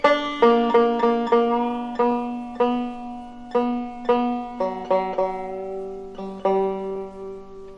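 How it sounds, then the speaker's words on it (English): A 5-string banjo tuned to open G rings out with single plucked notes, each string sounded one after another in a clear, close, evenly paced sequence with ringing decay. "first tune them at the high position in G tuning"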